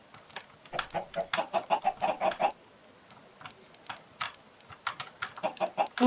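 Minecraft chickens cluck in quick, choppy bursts, several birds overlapping in a busy stretch, then a pause and more clucking.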